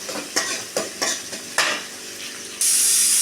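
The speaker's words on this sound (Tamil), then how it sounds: "வெங்காயத்தை போட்டு நல்லா கிண்டிக்கலாம்" Onions sautéing in a pan, with a soft sizzle under a series of distinct spatula scrapes and taps, then a sudden loud burst of hissing near the end.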